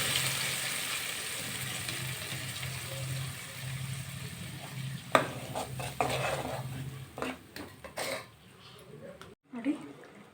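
Thick ground masala paste is stirred into sizzling onion tempering in a pan, heard as a steady frying hiss with scraping stirs and clatters toward the end, while a person talks throughout.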